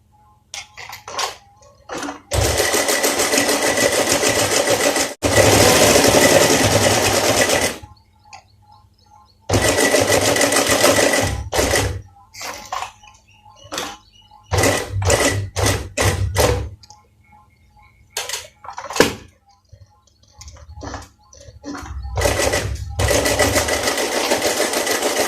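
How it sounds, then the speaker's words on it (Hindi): An electric sewing machine runs double stitching along a shirt placket, several loud close bursts of rapid whirring stitches separated by brief pauses and small handling clicks. "डबल सिलाई लगानी है।"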